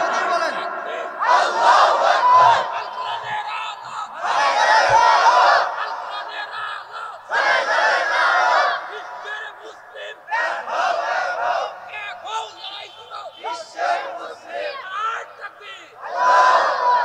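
A large crowd at an open-field religious gathering chants takbir in loud, repeated bursts, with a single leading voice calling out between the roaring responses.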